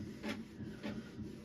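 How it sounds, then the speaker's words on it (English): A slow home printer sitting on a bookshelf runs through a print job, with soft repeating mechanical pulses and a faint rattle from the shelf, heard close and alone. "And the slowest printer in the world."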